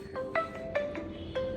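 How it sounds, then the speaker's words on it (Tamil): An incoming call plays a phone ringtone as a short melodic pattern of bright electronic notes repeating about every half second at moderate volume. "யாரோ ஃபோன் பண்ணுறாங்க, கரெக்ட்."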